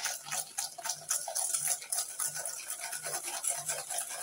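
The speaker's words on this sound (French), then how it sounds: "N'hésitez pas à bien fouetter pour blanchir." Sugar and egg yolks being whisked in a bowl, rapid rhythmic scraping strokes repeating a few times per second, close and steady without speech.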